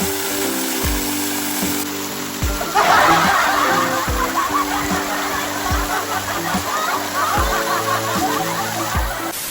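Water from a farm fountain spray gushes and splashes loudly over someone bathing beneath it, with a rhythmic motor-like thumping underneath and occasional laughter.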